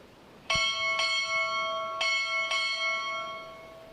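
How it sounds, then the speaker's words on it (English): A ship's bell is struck four times at a U.S. Navy boot camp graduation ceremony, two quick pairs of clear ringing strikes whose tones linger and fade, heard alone in a quiet hall. "Time orderly! Strike 4 bells!"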